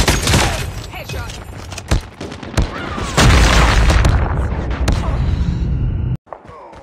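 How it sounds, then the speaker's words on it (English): A predator missile strike in the mobile shooter Call of Duty Mobile: loud, close booming blasts mixed with rapid gunfire that roll on continuously before cutting off abruptly near the end, with game voice lines over the top. "Hostile predator missile inbound."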